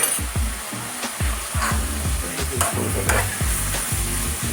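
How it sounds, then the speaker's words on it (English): Tomato paste and vegetables are stirred in a pan for a beef stew, with a steady loud sizzle and repeated scraping strokes of a spoon at an even rhythm, close up and with no talking. "I'm cooking that tomato paste along with these beautiful veggies"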